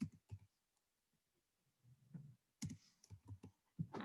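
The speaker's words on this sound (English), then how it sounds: "I can't copy it without going out of Zoom, so I have to type it" Quiet typing on a computer keyboard in a home office, delivered in short clustered bursts of soft key taps separated by brief pauses. No one speaks.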